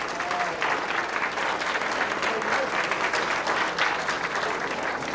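An audience at a Val Taro reunion gathering applauds steadily for a departed musician, a dense, even wash of many hands clapping that holds for several seconds with faint murmuring underneath.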